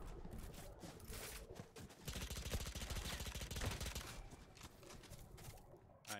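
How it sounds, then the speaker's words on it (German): Rapid bursts of automatic gunfire in the game Valorant, dense rattling volleys building in the middle and trailing off, recorded very quietly. "Von beiden Seiten wird so geballert."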